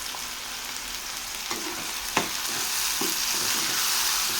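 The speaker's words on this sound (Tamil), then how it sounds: "ரெண்டு தக்காளியை சின்னதாக கட் பண்ணிவிட்டு சேர்த்துக்கோங்க கொஞ்சமாக உப்பு சேர்த்துட்டு வதக்கி விட்டுக்கலாம்" Chopped tomatoes with salt sautéing in a pan for a jackfruit seed fry, giving a constant close sizzle with a few sharp stirring taps.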